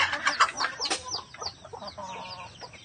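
Newly hatched chicks peeping with high, rapid chirps, many overlapping at close range, fairly soft.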